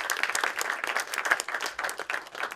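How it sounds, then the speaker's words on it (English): An audience applauds at a dhol drum premiere event in Leicester, a dense, continuous patter of many hands clapping at moderate distance, with no voices. "A big applause for him."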